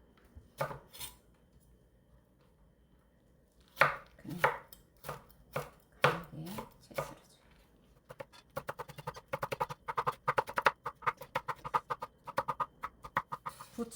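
Red chili and cheongyang chili peppers cut into 3–4 cm pieces on a board: a few irregular, separate knife chops, then a fast, steady run of close, crisp strikes, with no voices.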